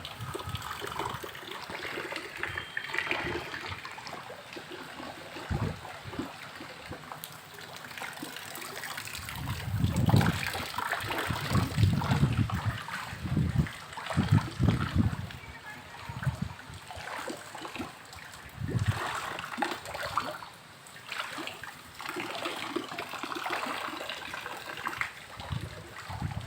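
Heavy rainwater flows and trickles into a house during a downpour, a continuous splashing gush that swells and falls, close and moderately loud.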